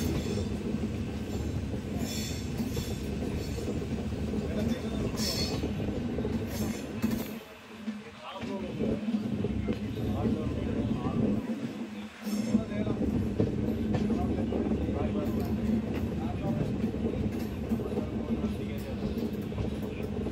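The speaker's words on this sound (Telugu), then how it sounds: "ఒక బ్యూటిఫుల్ కటింగ్ అయితే కొడుతుంది మన ట్రైన్." Kondaveedu Express 17211, a passenger train on the Machilipatnam to Yesvanthapur route, runs past with a sustained rumble of wheels and carriages and a steady metallic hum, dipping briefly twice. Voices are heard at times over the train.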